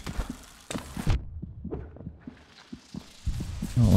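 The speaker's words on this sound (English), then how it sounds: "Heart beating." Heavy thumping heartbeat in Hollow Knight, a series of low muffled pulses in an irregular rhythm, fairly loud and close, ending in a louder rumbling swell, no talking.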